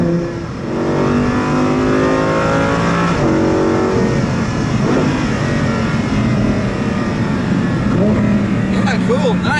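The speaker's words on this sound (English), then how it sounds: "The titanium exhaust here is everything you need." Italdesign Zerouno supercar with a V10 and titanium exhaust, its engine droning and revving steadily up close with rising and falling tones, with people talking over it.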